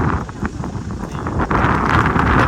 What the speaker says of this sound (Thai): โอ้เสียงลมลม